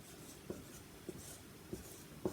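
Chalk or marker strokes on a classroom board come as four short, evenly spaced taps and scratches, each about half a second apart, against quiet room tone with no talking.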